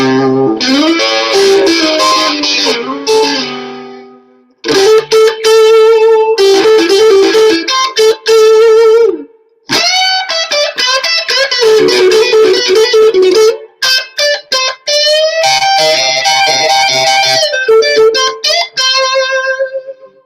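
An electric guitar played through an Orange amplifier with heavy reverb rings out in strummed chords and melodic phrases, loud and close, with brief pauses between passages and no talk.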